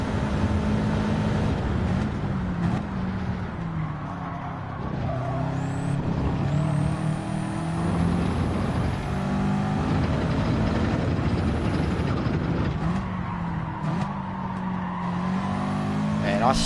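A car engine in a video game roars and revs continuously with shifting pitch, loud and close, while someone talks over it.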